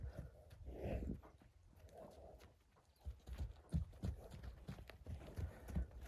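Irregular hoof clops of a horse on a hard surface, fairly close, with a few louder knocks and a low murmur of background noise.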